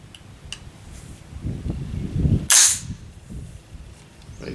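AR-15 rifle firing a single sharp, loud report of full metal jacket ammunition, close by, preceded by handling noise and followed by a brief echo.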